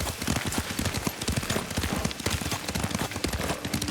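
Rapid clip-clop of horse hooves at a gallop in the video game Ghost of Tsushima, a dense, steady drumming of hoofbeats that runs throughout, close and loud with no voices.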